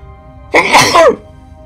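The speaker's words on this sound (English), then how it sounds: "I'm about to sneeze." A single sneeze, close and fairly loud, a quick sharp burst in an otherwise quiet room.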